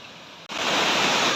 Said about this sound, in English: This is a closer view of the waterfall.